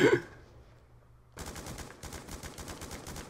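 Automatic weapon fire in Call of Duty Black Ops 2, a rapid, steady stream of close shots lasting a couple of seconds after a brief quiet pause.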